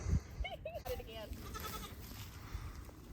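A small goat bleats a few times in short wavering calls, near and clear, over a low outdoor rumble by an electric net fence.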